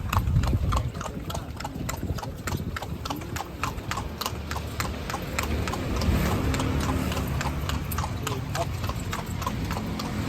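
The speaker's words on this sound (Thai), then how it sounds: "ที่ลำปางก็มีใครที่มาเที่ยวลำปางก็อย่าลืม มานั่ง รถม้านะครับ" A carriage horse's hooves clip-clop in an even, nearby trot on a ride through Lampang, joined by low road rumble and a voice talking intermittently underneath.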